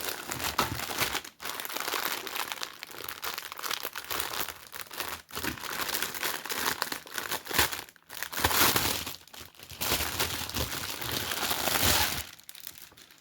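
Plastic package wrapping crinkles and crackles steadily as it is opened, a close, busy rustle running almost continuously with a few brief pauses and no talk over it.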